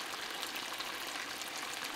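Bacon fries in a pan, giving a steady, even sizzle with fine crackling throughout and no voices.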